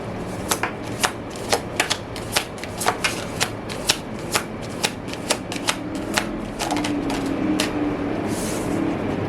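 A deck of tarot cards being shuffled up close in a series of crisp riffling flicks at an even pace, then a softer continuous rustle as a card is drawn, with no voices.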